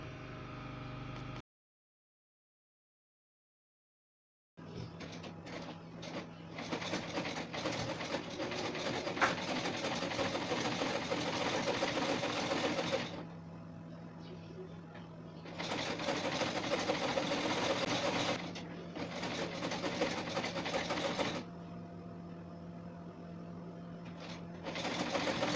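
A sewing machine stitching fabric for a bustier peplum top runs in long steady whirring bursts. It stops briefly several times, including one fully silent gap, and plays close up with no talking.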